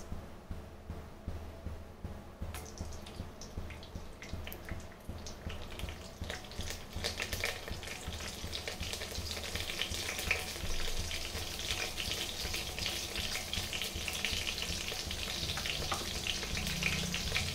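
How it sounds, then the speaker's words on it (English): Curry leaves dropped into two tablespoons of hot oil for Goan chicken keema sizzle and crackle, a moderate fry noise that swells sharply after a few seconds into a loud, steady hiss with no talking. "Now we'll add our curry leaves in this."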